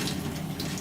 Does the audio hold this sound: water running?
yes